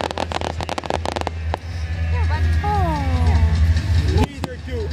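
Fireworks show with sharp bangs and crackling bursts, dense at the start and again near the end, heard over steady crowd chatter and background noise.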